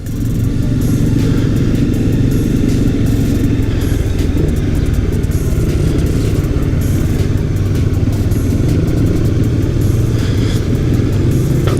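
A motorcycle, freshly serviced after a winter in storage, being ridden on the road: a loud, steady engine drone with constant wind rumble that holds without a break from start to finish, no voices.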